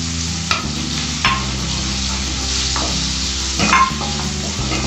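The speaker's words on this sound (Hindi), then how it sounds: "अब डालेंगे प्याज, अच्छे से इसको मिक्स कर लेंगे।" Onions frying in butter for street-style pav bhaji, a steady loud sizzle with several scraping stirs of the spatula against the pan, no talking.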